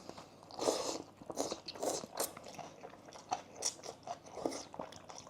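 Crunchy bites and chewing of khao soi noodles with crisp condiments on top, a Thai chicken noodle dish from 7-11, close and repeated in irregular bursts with no talking.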